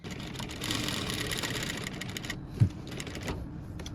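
A sewing machine stitches a blouse in a steady, fast mechanical patter that runs throughout, with one brief louder knock near the end and no talk.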